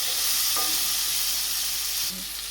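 Corned pork and jerk sausages sizzle loudly in a pan, a close, constant frying hiss with a brief stirring clink partway through.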